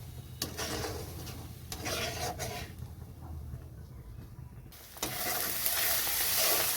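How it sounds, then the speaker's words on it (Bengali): Ground spice paste sautéed in a hot pan for a fish curry, a steady close sizzle with scraping and stirring strokes that rises and brightens near the end, with no voices. "এখানে দিয়ে দিচ্ছি বেটে রাখা মশলা, মশলাটা ভালো মতো কষাতে হবে।"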